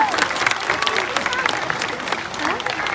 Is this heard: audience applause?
yes